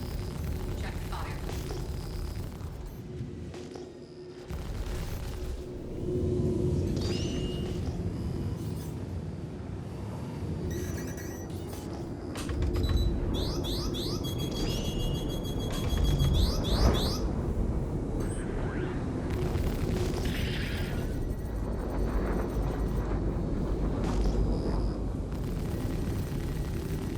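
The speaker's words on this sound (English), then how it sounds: "It's firing missiles continuously." Missiles firing nonstop in a space combat video game, a dense, sustained roar of launches and blasts that rumbles on without a break for the whole stretch, with occasional sharper crackles layered on top.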